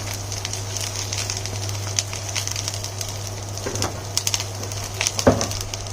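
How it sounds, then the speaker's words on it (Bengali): Ginger, garlic, onion and chopped green chillies fried with spices in a pan for a Bengali egg chop, giving a steady close sizzle under a constant gas hum, with occasional spoon scrapes and clinks as the mixture is stirred. "একটু নেড়ে নেব।"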